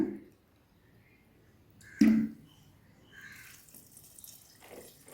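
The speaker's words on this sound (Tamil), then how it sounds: "பத்து டம்ளர் தண்ணி ஊற்றிக்கிறேன்" Water is poured from a tumbler into a one-litre can while making a citron bio-enzyme cleaner. A short splash stands out midway, followed by a faint trickle under the quiet room.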